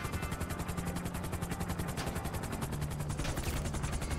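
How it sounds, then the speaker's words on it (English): Rapid automatic gunfire in GTA V crackles in a dense, continuous burst over the steady thrum of a helicopter rotor, loud and close, with a sharper cluster of shots near the end. "Oh, I'm getting shot at."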